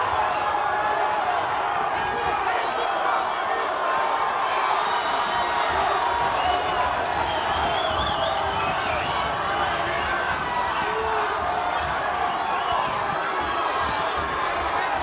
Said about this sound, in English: The crowd is into it here at the Fantasy Springs Resort and Casino.